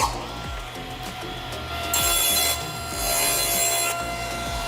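A handsaw cuts through wood for a drawer box in repeated back-and-forth rasping strokes, close by and steady, with some strokes louder than others and no talk.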